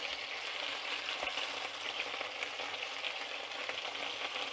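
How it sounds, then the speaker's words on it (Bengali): Chicken pieces frying gently in a pan for homemade Spanish paella give a steady, close, even sizzle with light stirring, and no voices. "এখানে চিকেনগুলা কড়া করে ভাজা যাবে না, হালকা করে ভাজতে হবে"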